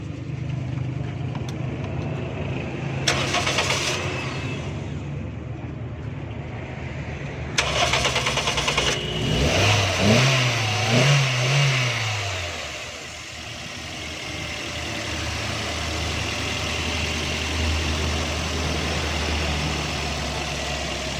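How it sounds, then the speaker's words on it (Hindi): A petrol car engine is started after a tune-up that included spark plug checks. The starter cranks briefly, the engine catches and revs up, then settles into a steady, close idle. "गाड़ी स्टार्ट करें।"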